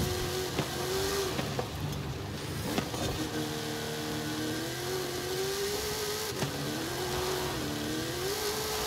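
Trophy truck engine in a racing game revs and accelerates hard, a loud mid-pitched drone rising and dipping with gear changes, joined by a few sharp knocks and thumps over continuous road noise.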